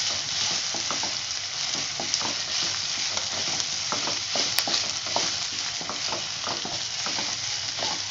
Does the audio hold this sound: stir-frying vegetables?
yes